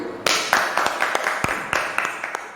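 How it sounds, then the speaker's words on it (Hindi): A church congregation clapping in welcome during a service, with sharp, scattered claps that come in uneven bursts and sound fairly close and sparse. "हम परमेश्वर के वचनों में जाने से पहले परमेश्वर के जोरदार तालियों से स्वागत करते हैं"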